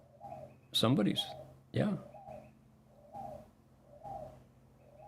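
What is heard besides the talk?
wild pigeon cooing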